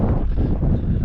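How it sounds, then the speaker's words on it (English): Steady wind roars and buffets a nearby microphone, a constant low rumbling rush with no pauses. "a little bit windy"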